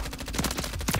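Rapid gunfire with heavy recoil in a Call of Duty–style shooter on a Search and Destroy map: repeated sharp bursts of shots close up, firing in quick clusters across the whole second.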